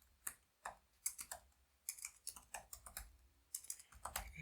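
Bursts of rapid clicking keystrokes on a computer keyboard while coding, close and quiet, with brief pauses between flurries.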